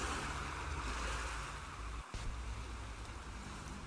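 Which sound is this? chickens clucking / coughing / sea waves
sea waves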